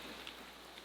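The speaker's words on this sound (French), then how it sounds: "il commence à pleuvoir à l'intérieur" Rain falls steadily outdoors in wind around a house being reclad in wood, a brief, faint, even hiss of drops with no voices.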